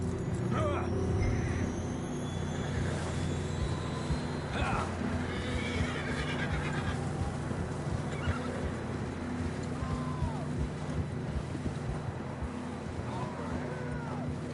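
Horses neigh and whinny in the Red Dead Redemption II game world, with hooves clip-clopping beneath a steady wash of outdoor ambience and a rolling low rumble; calls rise clearly in the first seconds and recur faintly later.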